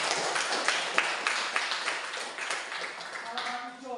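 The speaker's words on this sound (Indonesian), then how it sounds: "Tepuk tangan untuk kalian semua." Schoolchildren in a classroom clap together, with a burst of uneven, close hand claps that slowly thins out, and voices rising faintly toward the end.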